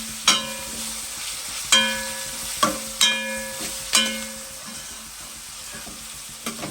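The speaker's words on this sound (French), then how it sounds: "Mélangez bien." Rougail graton with garlic, chili and ginger stirred in a pan, a few distinct scraping strokes of the spoon at regular intervals over a low sizzle, close and clear, with no talking.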